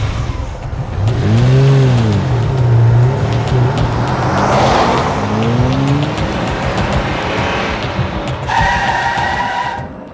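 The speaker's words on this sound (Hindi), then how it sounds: "जल्दी गाड़ी घुमा और जल्दी घर चल, लेट करा दी खामा।" A car in a dramatized crime-show scene revs hard and pulls away fast, loud engine rising and falling with a tire-squeal-like whine, then fading under traffic noise.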